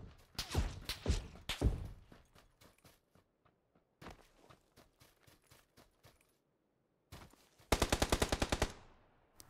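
Gunfire in the video game PUBG, several bursts of rapid automatic shots with single cracks in between, loud and close, ending in one long fast burst with no talking.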